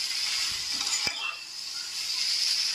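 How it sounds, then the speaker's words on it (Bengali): Paneer curry frying over a high gas flame: a steady, close sizzle and hiss with a brief clink of a utensil partway through, no talk. "গ্যাসের ফ্লেমটাকে হাই রেখে আমরা ফ্রাই করে নিচ্ছি"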